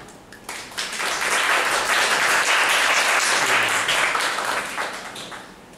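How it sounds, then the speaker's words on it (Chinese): An audience breaks into sustained applause to welcome a speaker, many hands clapping in a dense, even wash that swells quickly, holds steady for several seconds, then tapers off. "那我们就热烈掌声欢迎我们今天主要是 Tammy 啊"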